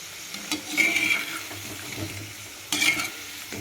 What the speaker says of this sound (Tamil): கொஞ்சம் சிம்மில் வச்சு பொறிக்கணும்